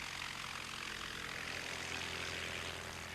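Curtiss Pusher aeroplane from 1909 with a 60-horsepower engine, running steadily with a dense, constant propeller roar and engine drone throughout, loud and close with no break.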